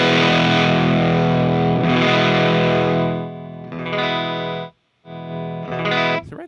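Electric guitar with custom humbucker pickups through a cranked Plexi amp, thick distorted chords sustained and ringing, played loud in a few bursts with brief pauses between.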